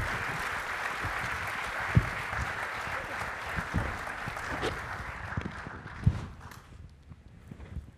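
Audience applause at a service-themed speaking event, a sustained wash of many hands clapping at moderate distance that thins and fades out toward the end.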